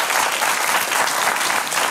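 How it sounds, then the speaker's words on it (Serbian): Studio audience applauding, a dense burst of steady clapping from many hands, loud and close throughout. "Molim vas, aplauz."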